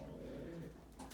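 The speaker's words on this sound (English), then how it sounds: "Plenty of room for the birds to fly around" Pigeons in a loft coo softly, a faint, low, throaty murmur heard close by in a quiet space.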